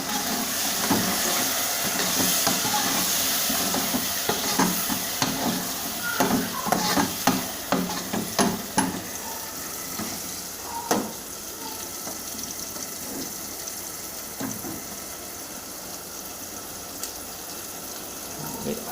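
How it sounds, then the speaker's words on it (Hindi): A spoon stirs chicken with capsicum, green chillies and tomatoes frying in a pan, giving a steady sizzle broken by repeated scraping and clattering strokes, busiest early on and then easing into a gentler fry. "और ये हरी मिर्च भी इसमें शामिल करेंगे। फिर इसको मिक्स करेंगे अच्छी तरीके से।"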